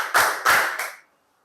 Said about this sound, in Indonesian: Yang kencang tepuknya.